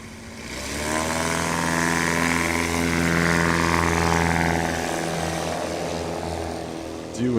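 Highlander STOL plane's propeller engine during STOL practice at Creswell, Oregon, a loud continuous droning buzz that swells and shifts in pitch as the aircraft passes, steady and close throughout.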